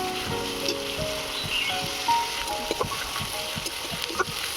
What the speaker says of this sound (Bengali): রসুন বাটা আদা রসুনটাকে একটু ভালো করে আমি নেড়ে ছেড়ে নেবো